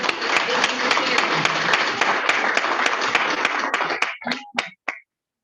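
Room full of applause welcoming guests at a Rotary Club meeting, dense steady clapping that thins out into a few last claps before falling silent.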